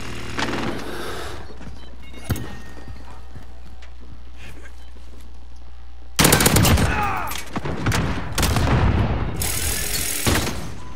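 Automated sentry gun opening fire in Modern Warfare, loud rapid bursts of gunfire in two long stretches after a quieter start, dense and sustained against steady game background noise.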